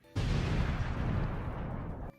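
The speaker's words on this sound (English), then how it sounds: "I'm just gonna add in an explosion effect." A booming explosion sound effect, dropped in during a drawing stream, bursts in abruptly and rumbles heavily for about two seconds before cutting off sharply.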